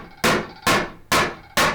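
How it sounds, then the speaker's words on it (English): An end cannel gouge chops out wood between drilled holes: four sharp, loud, evenly spaced knocks with short decays. "Start by removing the material between the holes."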